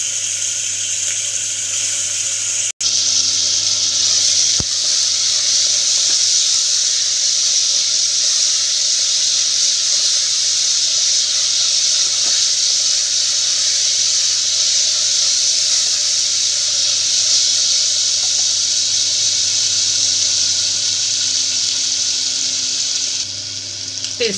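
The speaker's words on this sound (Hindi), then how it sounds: "हम चने की दाल को फ्राई कर लेंगे" Chana dal frying in oil in a pan for a Rajasthani festival thali, a steady close broadband sizzle and hiss that holds evenly throughout, with a brief sharp click near the start and no talking.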